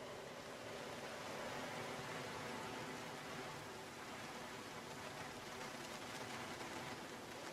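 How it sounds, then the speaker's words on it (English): Rain splatters on a roof in a steady, even hiss of dense drops, constant and unbroken from start to finish with no voices. "Just the sound of the rain splattering on the roof."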